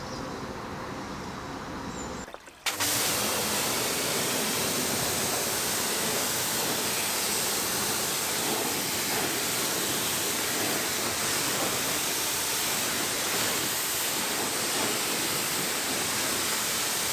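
A water jet rinses cleaning product off a filthy, moldy old Volvo being deep cleaned, a loud continuous spraying roar that kicks in abruptly after a brief quieter moment and holds steady up close.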